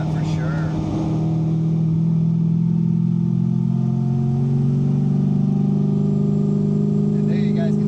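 Supercharged C6 Z06 Corvette with its exhaust valves open, a loud, steady low engine drone held throughout at close range, with people talking over it.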